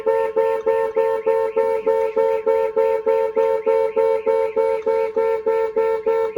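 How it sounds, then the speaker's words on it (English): An Audi RS3's Starline S9 alarm honks the car horn in a rapid, regular pulse, about three beeps per second, loud and close, repeating without pause. "the alarm is going to sound and the horn will also sound"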